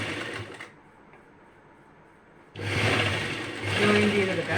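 A sewing machine stitching the shoulder seam of a sleeveless front-pleated nightie: a short burst of whirring, a pause with faint handling noise, then a longer steady motor run that rises slightly, close and fairly loud.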